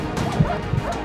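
Dogs barking and yipping during a war battle in a video game, short sharp barks overlapping close up amid a dense, busy background of game noise.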